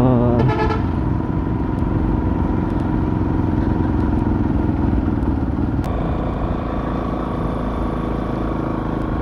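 A vintage TVS XL moped being ridden, its small engine droning steadily and close throughout, with a quick run of horn toots at the start and rattling clatter along the way.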